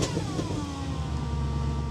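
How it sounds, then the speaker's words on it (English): A cold Audi S4 Avant engine revs up and settles back from close by, a brief throaty rise and fall on an older car with an ABS fault, with no talking. "I shouldn't rev a cold engine, should I really?"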